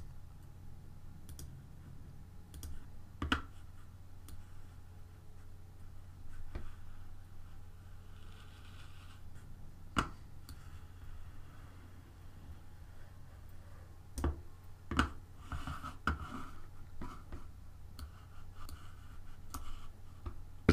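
A computer mouse clicks and drags while erasing backgrounds in Photoshop Elements, giving sparse, quiet, sharp clicks spaced irregularly over a low steady hum, with no talking.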